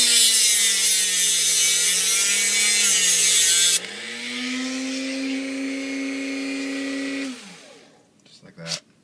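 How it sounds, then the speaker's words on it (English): Dremel rotary tool cutting off an excess shaft on an On3 model hopper, a loud, close, high-pitched whine that drops in pitch partway through, then winds down and stops, followed by a few small clicks. "I'm just going to take my Dremel tool. You can use a clipper or whatever and just cut off the extra here."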